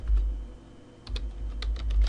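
Typing on a computer keyboard while entering a website address: a short run of close, crisp key clicks over a low hum.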